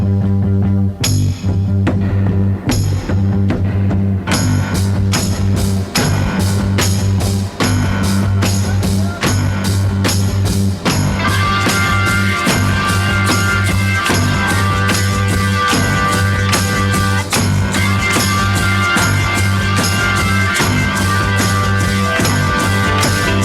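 A song featuring a teenage singer plays as a dense rock recording with steady driving drums, bass and organ-like chords, loud and continuous throughout, no talking over it.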